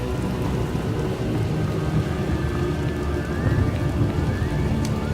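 A loud, continuous downpour of rain with deep rumbling thunder rolls through a storm scene in the Star Wars: The Old Republic video game, dense and unbroken without any voices.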